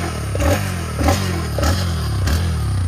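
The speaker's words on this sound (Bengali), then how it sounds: "আর আমি অ্যাক্সিলারেশন দিচ্ছি" A TVS Raider 125 kick-start motorcycle engine idles and is revved in four short blips about half a second apart. It is close and fairly loud, with a steady low exhaust throb between the bursts.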